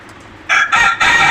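A chicken crows close by, a short loud call broken into three bursts after a moment of quiet.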